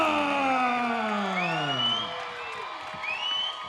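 A fight crowd at the Monona Terrace cheers and whoops at a Chosen Few Fighting Championships bout, loud and close under an announcer's voice, then fading somewhat.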